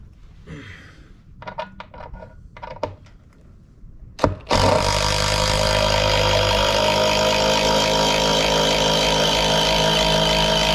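A power driver sinks big screws into tough wood of a barn floor, with a few sharp taps and clicks before a loud, sustained motor whine that runs steadily to the end, close up.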